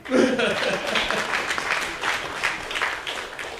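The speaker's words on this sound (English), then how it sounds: "You can clap." An audience at a high school groundbreaking ceremony breaks into applause, a dense patter of clapping hands that carries on steadily throughout, with a few voices mixed in.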